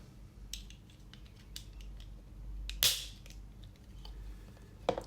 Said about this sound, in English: Snapping a blade like this might seem quick, but it's also how people get cut, or worse.